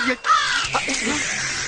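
A crow caws a couple of times up close, harsh short calls, with a voice speaking over and around them in a cartoon scene.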